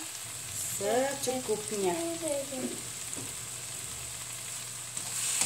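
Bean sprouts and petai with salted anchovies stir-fried in a wok give a steady, close sizzle with faint stirring scrapes, while someone talks briefly over it near the start.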